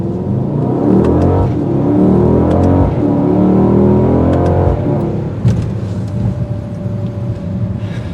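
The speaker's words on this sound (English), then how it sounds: "that's what raw performance gets you out of a handcrafted V8 bi-turbo engine" A 2022 Mercedes-AMG GLE 63 S with a handcrafted V8 bi-turbo engine in Sport Plus accelerates hard on the road, its loud rising engine roar climbing through gears in clear close surges without speech.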